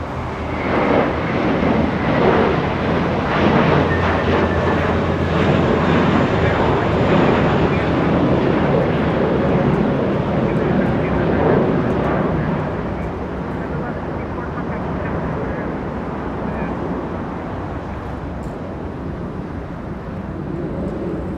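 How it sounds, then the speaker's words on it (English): A JetBlue Airbus A321 airliner bound for JFK takes off at Los Angeles International Airport, a loud, broad jet roar that stays strong for about twelve seconds and then eases to a lower, steadier rumble as it climbs away. "JetBlue lifting off. That one heading to JFK International,"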